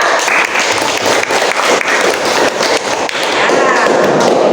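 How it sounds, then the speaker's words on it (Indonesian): Classroom applause for group five during a lesson, dense steady clapping from many students filling the whole stretch, with children's voices mixed in underneath. "Beri tepuk tangan kelompok 5"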